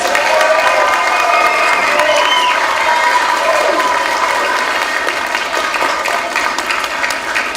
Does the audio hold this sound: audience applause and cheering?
yes